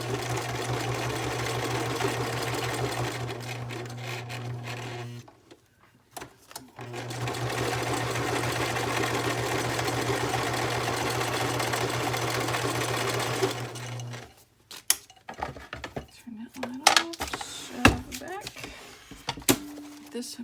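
A sewing machine stitches around a journaling card, a close, fast steady whir in two long runs with a short pause between, followed by handling clatter and light knocks.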